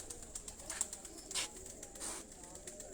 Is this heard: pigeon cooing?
yes